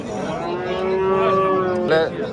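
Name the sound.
cow mooing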